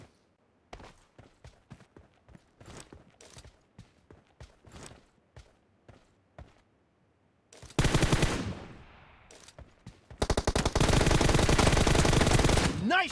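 Gunfire in a team deathmatch shooter game, starting with scattered single shots and steps, then bursts of loud, dense automatic fire in the closing seconds.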